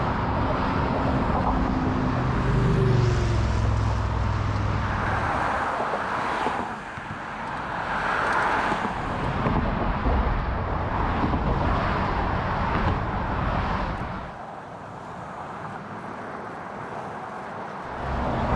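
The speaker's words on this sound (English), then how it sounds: "It's loud with the traffic" Road traffic streams across a high bridge as a continuous rushing roar with vehicles sweeping past and gusts of wind noise, dropping briefly quieter near the end before rising again; no one speaks.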